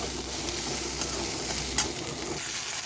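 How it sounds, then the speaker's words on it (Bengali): Ginger, cumin, coriander, garlic, onion, dried red chillies and green chillies fry lightly in a pan with a dense, steady sizzle and faint stirring scrapes throughout. "এইগুলোকে আমি হালকাভাবে ভেজে নেব"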